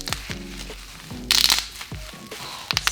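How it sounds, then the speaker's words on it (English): Bubble wrap being crushed while unboxing an Electro-Harmonix Bass Big Muff Pi pedal, a series of close, sharp pops and crackles at irregular intervals with a denser burst in the middle. "bubble wrap"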